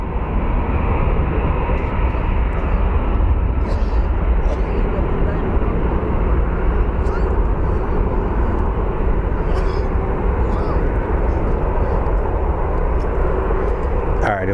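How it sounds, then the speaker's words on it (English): An Airbus A321 jet airliner takes off at Phoenix Sky Harbor International Airport with a loud, steady, broadband engine roar sustained throughout, close and continuous. "here comes the A321"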